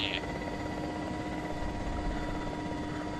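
Helicopter rotor and engine drone in the video game Arma 2, a steady loud whir filling the clip as the chopper sets down, with no talk over it.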